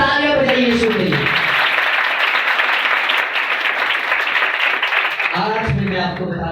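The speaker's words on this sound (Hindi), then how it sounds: "जोरदार तालियां बजाइए यीशु के लिए।" A church congregation in Karachi breaks into loud, sustained applause for Jesus during a sermon, with a preacher's voice heard just before and after it.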